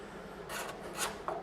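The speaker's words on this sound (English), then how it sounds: "you can do a final little card scraping just to clean it up a little further" A card scraper rasps across a wooden sculptural box, two or three short, close strokes over a quiet background.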